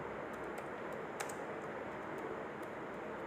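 Steady, close-up tapping on a computer keyboard as a document title is typed, with quick, even keystrokes running the whole time and no voices.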